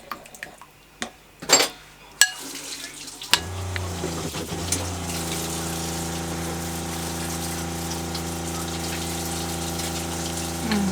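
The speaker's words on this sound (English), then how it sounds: "I've got my pot washed" A pot is washed under running water, with a few clanks and knocks at first before a steady gush of tap water settles in and continues to the end.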